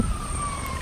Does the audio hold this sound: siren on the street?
yes